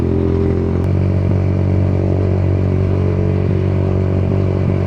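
A Keeway Cafe Racer 152 motorcycle being ridden toward Clark, Pampanga: a steady, loud engine drone with wind rush, continuous and close throughout.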